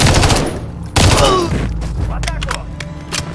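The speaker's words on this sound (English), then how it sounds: "There's enemy fire!" Heavy enemy gunfire in the Call of Duty Modern Warfare III story campaign: dense bursts of loud, close automatic shots with a sharp blast near one second, continuing in scattered volleys while a voice talks underneath.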